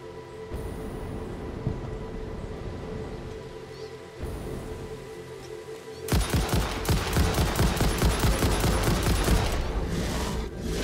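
Rapid automatic gunfire in Satisfactory as a player shoots an armored enemy in the Red Forest, a dense burst of shots starting midway after quieter ambient rumble with a few isolated pops.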